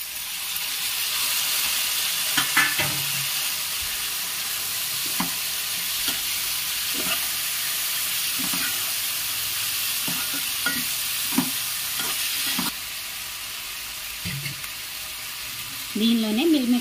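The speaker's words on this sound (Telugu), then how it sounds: "మనకు వంకాయ ముక్కలు చక్కగా ఫ్రై అయిపోయాయి కదా, ఇప్పుడు టమాటాలు యాడ్ చేసుకున్నాం." Eggplant pieces and tomatoes fry in a pan for a mixed vegetable curry, giving a steady loud sizzle broken by scattered spoon scrapes and clinks, with a brief louder shuffle at the end.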